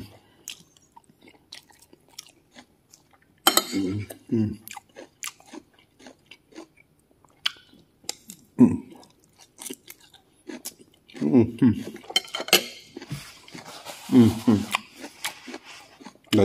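Nigerian fried rice with chicken eaten with cutlery at a workplace dinner, close chewing and biting sounds coming in intermittent bursts, with soft clinks and shuffles between mouthfuls and no talking.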